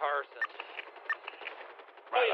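Gunfire aimed at a helicopter during a GTA roleplay shootout, a few sharp shots spaced through a band-limited, radio-like mix, with a heavier burst at the end and people talking throughout.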